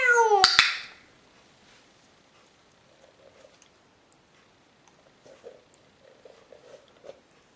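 A pet bird mimics a cat's meow on cue: a few faint, short, meow-like calls follow a loud opening burst, spaced out and quiet against near silence.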